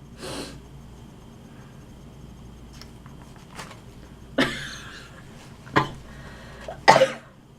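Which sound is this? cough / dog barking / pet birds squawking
cough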